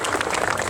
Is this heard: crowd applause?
yes